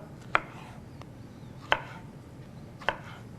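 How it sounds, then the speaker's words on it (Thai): Three crisp knife strikes slicing a banana into rounds on a cutting board, evenly spaced about a second apart, with quiet room ambience between them. "กล้วยหอมนะครับ เราก็จะหั่นเป็นวงๆนะครับ"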